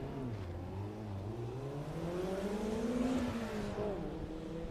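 A Mazda Miata autocross car, number 11, running a course at Daytona, its engine revving up and down through rising and falling pitch at moderate distance, steady and continuous without talk.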